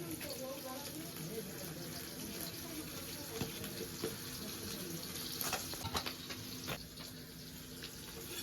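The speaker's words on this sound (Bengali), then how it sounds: "পটল মটল সবগুলো একটু ভালো করে ধুয়ে কেটে নিতে হবে।" Pointed gourds (potol) are rinsed under a running kitchen tap while fish fries nearby. The water flows in a constant soft rush with small splashes, and a voice speaks over it.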